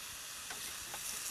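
Mushrooms frying in a pan over relatively high heat with a little olive oil or butter, giving a soft, steady hiss with a couple of faint stirring scrapes.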